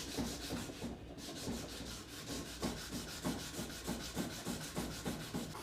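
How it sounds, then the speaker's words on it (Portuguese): A wooden edge is sanded by hand with folded 60-grit sandpaper to round it over, producing steady, rhythmic back-and-forth rasping strokes, close and continuous, with no speech. "Eu vou pegar agora uma lixinha, uma lixa 60, vai passar aqui, para quebrar isso"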